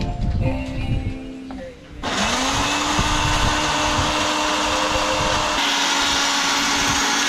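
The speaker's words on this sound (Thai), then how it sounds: "มากดเครื่องปั่น" An electric blender powered by a portable PI-1500 solar power box whirs into life partway through, its motor holding a loud, steady drone after a quieter stretch with some background talk.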